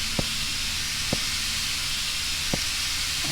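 Steady steam hissing in the video game Neonsea, a continuous broadband rush with three brief clanks spaced about a second apart, loud and alone.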